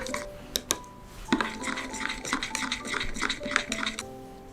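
A spoon clinks against a container as juice is stirred to dissolve calcium lactate powder, with irregular close metallic taps and scraping and no talking.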